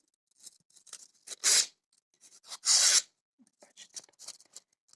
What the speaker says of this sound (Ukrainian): Спочатку я візьму ножиці і ось так зроблю